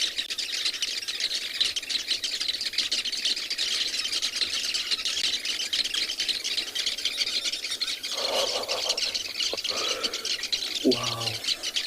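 Birds calling in the wild at sunset, a dense, steady wash of chirps and squawks with a few louder calls near the end, and faint talk underneath.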